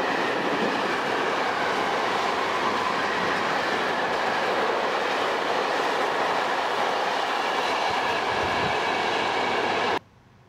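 A train hauled by an Austrian locomotive rumbles past on the rails near Munich with a steady roar and rhythmic wheel clatter, cutting off abruptly at the end.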